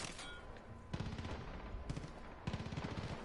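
Far Cry 5 video game gunfire, with rapid bursts of automatic shots in several rattling volleys under a steady background din and no talking.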